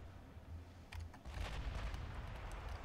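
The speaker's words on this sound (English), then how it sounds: "Our 16-inch guns are opening up" Sixteen-inch naval guns firing in Ultimate Admiral Dreadnoughts, low rumbling booms building into a sustained roar of distant heavy gunfire.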